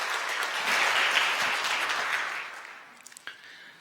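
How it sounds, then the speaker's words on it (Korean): A church congregation at a Sunday morning service claps warmly to welcome members, a thick burst of applause that swells briefly and then fades away to a few last claps. "여러분들 환영의 박수 부탁드리겠습니다"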